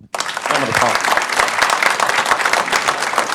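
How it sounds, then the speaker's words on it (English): Audience applause at a Lee's Summit, Missouri city council meeting bursts in loudly and carries on as dense, even clapping, with a few voices mixed in beneath it. "Let's give them a round of applause."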